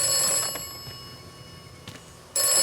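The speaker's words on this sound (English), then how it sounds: "There's a phone call again." A telephone rings in the post-apocalyptic video game Atomfall, bright repeated bell tones sounding alone at moderate loudness, fading to a quiet gap and then starting again near the end.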